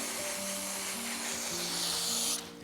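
A steady close hiss of water spraying down large houseplants to blast off bugs runs throughout, cutting off near the end.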